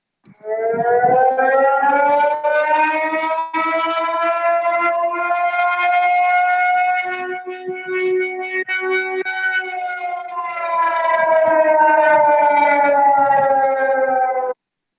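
A loud, sustained civil defense emergency warning siren in San Francisco, sounding its weekly Tuesday noon test, rises and holds a steady droning tone for about fifteen seconds before cutting off, with no voices.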